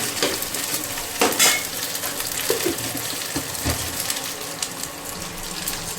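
Kofta pakoras bubble and fry in hot oil with a steady sizzling hiss, broken by occasional scrapes and knocks of a utensil against the pan, heard close and at a moderate level.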